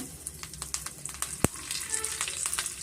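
Oil frying in a pan for raw mango chutney as curry leaves go in, a steady crackling sizzle with one sharp loud pop partway through, close by and without speech.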